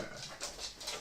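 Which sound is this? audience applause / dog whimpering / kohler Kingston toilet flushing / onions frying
dog whimpering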